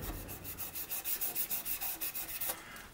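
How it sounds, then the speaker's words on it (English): Fine 1000 grit sandpaper rubs back and forth over a model ship hull, a quiet, rhythmic scratching of about a dozen even strokes, close and alone. "I think I better get a new piece of 1000 grit here."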